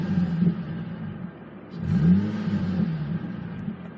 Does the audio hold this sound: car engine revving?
yes